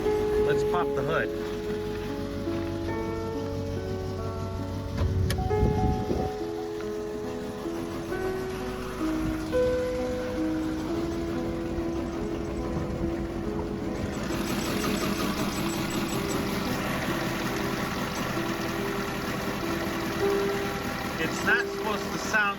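A faulty 2017 GMC Terrain SUV engine idling under the open hood, giving a steady, tonal hum with an uneven rough note. A person speaks briefly near the middle.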